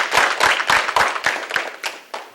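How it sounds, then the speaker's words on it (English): Applause for a speaker at a ninja martial arts school event, heard as a run of sharp, uneven hand claps from a small group, fairly close and moderately loud, tapering off over a couple of seconds. "Give him a big round of applause."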